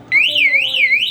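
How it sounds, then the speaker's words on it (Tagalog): Anti-theft alarm on an Evo Powerboard 71cc scooter wails loudly and close with a rapidly sweeping, siren-like up-and-down tone, heard alone. "ayan, nag-alarm na siya."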